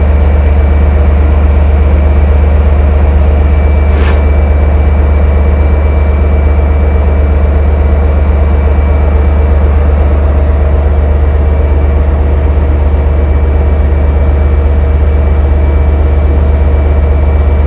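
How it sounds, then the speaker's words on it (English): Long Island Rail Road train 6005 pulls away at Speonk station, a loud, steady low engine rumble with a constant hum that holds without letup, broken only by one brief sharp click. "after the train pulls away a little bit with the background noise here"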